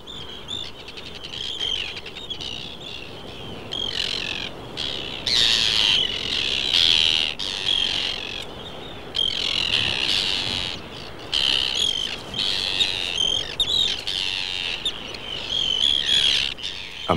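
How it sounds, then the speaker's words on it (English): Arctic terns calling in Shetland in summer, a steady stream of harsh, grating cries and chirps from several birds, near and fairly loud, with no talk. "The arrival of the Arctic tern heralds the brief Shetland summer, a much-loved bird, a swallow of the northern seas."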